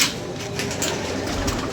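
Pigeons gathered close by, soft cooing and flutters under a steady outdoor background, fairly loud at first then settling into a continuous low murmur.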